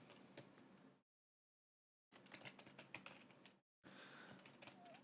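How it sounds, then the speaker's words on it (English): Quiet typing on a computer keyboard during a coding session, with soft, rapid key clicks in two bursts separated by silent pauses, heard close up. "So we're basically going to type in /word search"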